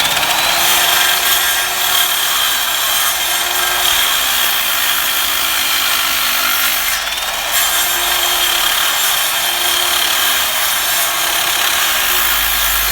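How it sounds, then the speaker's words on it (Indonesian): Repeated back-and-forth sawing with a manual hand saw through a length of wood, a steady rasping rhythm of strokes, close and fairly loud, with no talking. "80 cm tadi kita potong menjadi 40 cm menjadi dua bagian"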